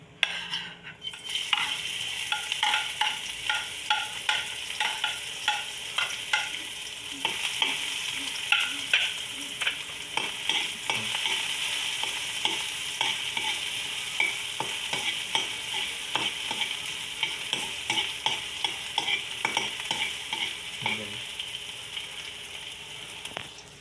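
Chopped onion and garlic sauté in hot oil for chicken liver and gizzard adobo, giving a steady, close sizzle broken by frequent scraping and clicking stirs of a utensil against the pan, with no voices.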